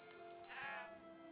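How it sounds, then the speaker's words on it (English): A single sheep bleat from the Fae Farm video game, soft and somewhat distant, wavering for about a second over a faint background. "I do like the sheep noise that they've got."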